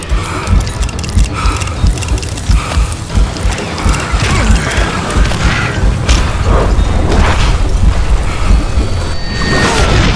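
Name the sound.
explosion in the video game Call of Juarez Gunslinger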